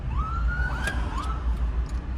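A police car siren wails in rising and falling sweeps, moderately distant, approaching from behind a moving car on a Philadelphia street, over a low rumble of road noise.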